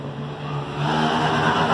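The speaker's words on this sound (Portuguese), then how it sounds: "Moto passando, gente." A motorcycle passes outside a room, its engine drone swelling steadily from moderate to louder over a couple of seconds with no talk over it.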